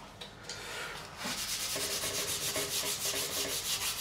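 Strips of 400 grit sandpaper rubbed over the frets of an Ibanez Roadstar II RG200 guitar neck, a soft start followed by quick, rhythmic back-and-forth sanding strokes, close and steady.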